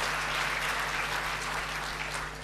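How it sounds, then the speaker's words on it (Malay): An audience at the closing ceremony of a Malaysian student representative council convention applauds the organizing committee, a dense, steady wash of clapping from a large hall that holds evenly throughout. "kita beri tepukan kepada seluruh jawatan kuasa ya"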